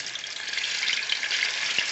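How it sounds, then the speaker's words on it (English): Seasoned chicken pieces fry in hot oil in a pot, giving a steady, close hiss of sizzling with small crackles and pops throughout, and no talking. "And it's sizzling. You can hear the sizzling."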